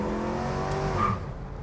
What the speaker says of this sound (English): And I tell you, the accelerator works.